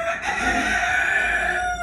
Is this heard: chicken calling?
yes